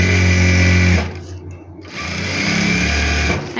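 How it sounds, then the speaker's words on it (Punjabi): A sewing machine stitches a farshi salwar, running in fast steady bursts with a brief pause in the middle before it resumes, close and loud with no talking. "ਇਸ ਤਰ੍ਹਾਂ ਰੱਖ ਕੇ ਆਪਾਂ ਇੱਥੇ ਸਲਾਈ ਲਗਾ ਦੇਣੀ ਆ"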